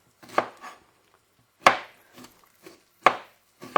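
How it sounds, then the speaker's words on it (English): A dull knife chopping vegetables for a vegan saffron risotto with tempeh chips, giving four sharp, separate strikes on a board with lighter cuts in between, close and alone with no talk. "you'll probably just see me chopping"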